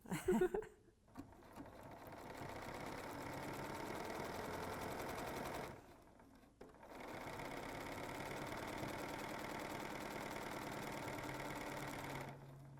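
A BERNINA sewing machine fitted with the #71 foot stitches binding onto a quilt, a steady whirring hum in two long runs separated by a short pause, fairly close and alone.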